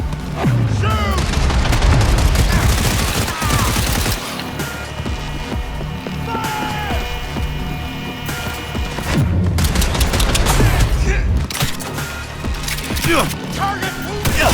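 Gunfire from Cyberpunk 2077 rattles in dense bursts of rapid shots and booms during a firefight, loud and close, easing mid-clip before erupting again, with shouting voices mixed in.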